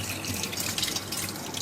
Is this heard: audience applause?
no